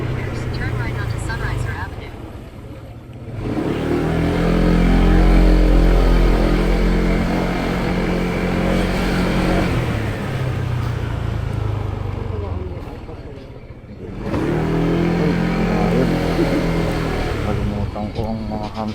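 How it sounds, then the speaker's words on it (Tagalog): A motorcycle engine on the road during a long trip from Caloocan to Pangasinan, droning steadily and swelling in loud, rising-and-falling revs close by, with voices heard over the engine. "Ini nga yung motor."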